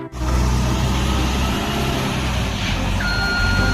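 A toy RC bulldozer's small electric motor runs with a steady, loud whirring drone and a faint rising whine near the end, with no talking.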